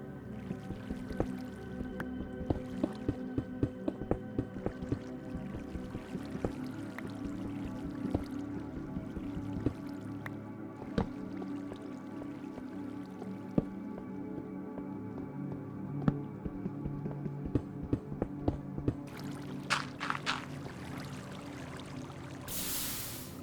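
Flowing water in an old version of Minecraft while caving, a steady wet trickling wash with scattered drips and splashy clicks running throughout, fairly close and continuous with no talking.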